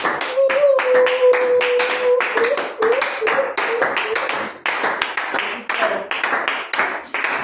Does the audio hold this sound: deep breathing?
no